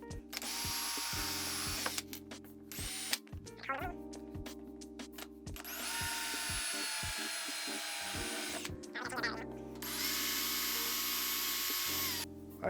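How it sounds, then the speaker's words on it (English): A power drill with a 7/64 bit boring holes, whining in several sustained bursts separated by short pauses and clicks, fairly close and loud. "I have drilled all the holes"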